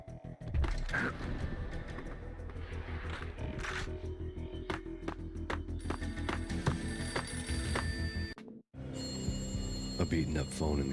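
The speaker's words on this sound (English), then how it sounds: "A beaten-up phone in the entrance hall was ringing." A beaten-up telephone rings in the entrance hall of a building in the video game Max Payne, a steady repeating ring layered over game music and ambient noise, with a brief drop to near-silence late on.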